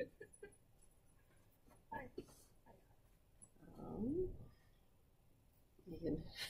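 A puppy whimpers faintly in the background with a few soft, brief whines, while a person talks nearby over a quiet room.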